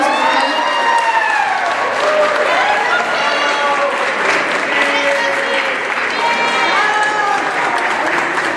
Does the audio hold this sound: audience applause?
yes